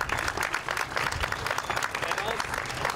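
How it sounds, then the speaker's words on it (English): An audience claps steadily through a dedication ceremony for the new Vashon water taxi M.V. Sally Fox, a loud, dense wash of applause with crowd murmur mixed in throughout. "That was too much applauding"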